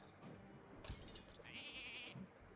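Sheep bleating in the card game Hearthstone, a short wavering bleat in the middle of game effects, with a brief shattering hit just before it.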